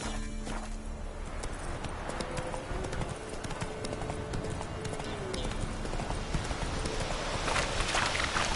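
Roach the horse gallops in Witcher 3, a steady, close clip-clop of hoofbeats running the whole time over game ambience and a faint background tone.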